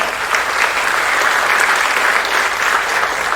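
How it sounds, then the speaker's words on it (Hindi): Loud, steady applause from a seminar audience welcoming a guest speaker on stage, dense clapping filling the room without a break. "जोरदार तालियों के साथ स्वागत करते हैं आशीष सर का।"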